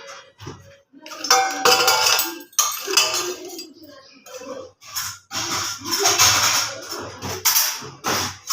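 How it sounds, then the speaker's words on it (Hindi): Dishes, pots and cutlery being washed in a home kitchen, with repeated close clinks and clatters of metal and crockery in irregular bursts, broken by short pauses. "तो गाइस अब मैं थोड़ी सी बर्तन है वो मैं क्लीन करती हूँ।"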